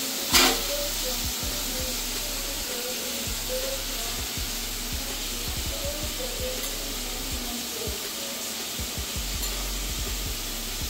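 Potatoes frying in white oil for chowmein, a steady close hiss and sizzle with a sharp burst at the start and occasional soft clinks, faint speech underneath.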